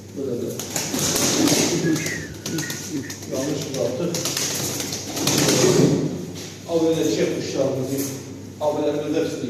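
Tumbler pigeons coo repeatedly in soft, throaty bursts close by, mixed with cage rustles and wing flutters, while someone talks over them for much of the time.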